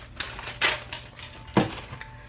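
Plastic food processor slicing attachment being handled in a kitchen, a few sharp clacks and knocks spaced irregularly, close and fairly quiet.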